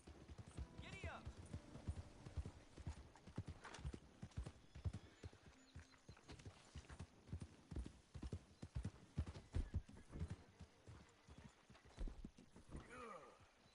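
Horse hooves clip-clop at a steady gallop in the video game Red Dead Redemption 2, loud and near for the whole stretch, with occasional whinnies and brief bits of speech over the pounding rhythm.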